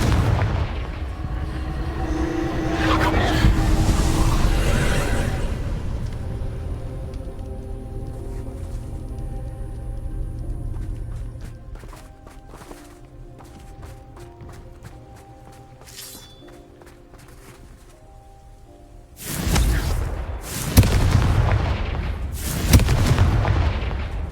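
Booming Confringo blasting-spell explosions in Hogwarts Legacy, heavy blasts early on, then a quieter stretch of tonal game music and effects before several loud, sharp explosions burst near the end.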